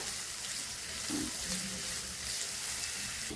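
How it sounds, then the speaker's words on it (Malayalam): Chopped onions frying in hot oil in a home kitchen, a soft steady sizzle with faint stirring, heard alone and fairly quiet. "സവാളയിട്ട് നമുക്കിതൊന്ന് വറുത്തെടുക്കാം."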